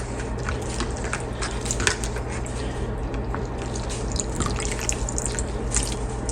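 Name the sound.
washing cut bitter gourd (karela) in water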